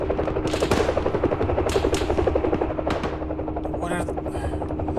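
In the video game Arma 3, an Mi-26 helicopter's rotor thumps loudly and steadily, close by, while bursts of gunfire crackle over it and a voice talks over the radio.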